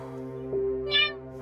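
A cat meows once, short and fairly clear, over a steady background hum from an animated show's soundtrack, no voices.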